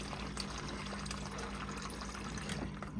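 Water streams steadily from a refrigerator's water dispenser into a cup, a constant close hissing, splashing flow with no talking.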